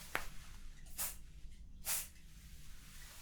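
Hair spray hisses out in two short bursts during a relaxing haircut, each a soft, close spray lasting a fraction of a second, separated by quiet pauses, with no talking.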